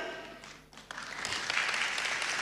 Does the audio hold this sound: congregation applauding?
yes